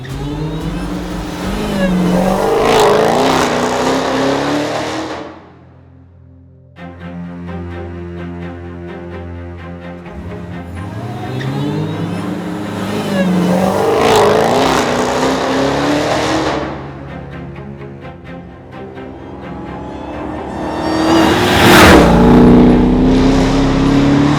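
A car engine revs hard under throttle in repeated long surges that climb and fall, with a brief dip between bursts, loud and close with no voices.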